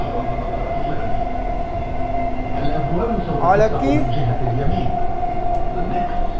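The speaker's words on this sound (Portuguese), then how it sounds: "Esse é o metrô de Dubai, gente." A Dubai Metro train hums and rumbles steadily throughout, with a brief rising whine of wheels partway through, while a person speaks a few words nearby.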